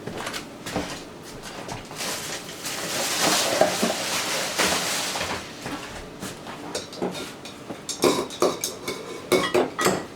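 A pot cover is handled over a pot of corn in a home kitchen, with clanks and metallic rattles, then a run of sharper knocks and clinks toward the end.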